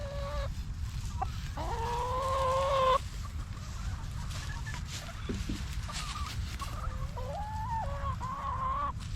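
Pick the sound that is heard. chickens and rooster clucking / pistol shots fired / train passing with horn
chickens and rooster clucking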